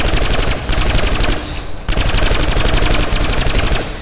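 Sustained automatic fire from a Vanu light machine gun in Planetside 2, a dense rapid rattle of rounds that pauses briefly mid-burst and then resumes, loud and close with no speech.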